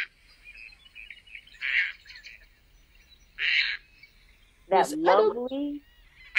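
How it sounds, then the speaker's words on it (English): Caspian tern giving a loud, harsh croaking call near the end, a single rasping descending burst, preceded by fainter bird calls and a brief spoken word. "lovely croak sound is the sound of a Caspian tern"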